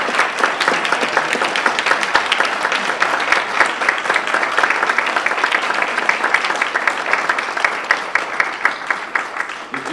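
Audience applause at a Toastmasters district international speech contest: dense, sustained clapping from a crowd, steady and fairly loud for the whole stretch without letting up.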